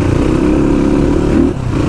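A motorcycle engine drones loudly and steadily during a ride on the road to Manang, with a brief dip in the engine note near the end.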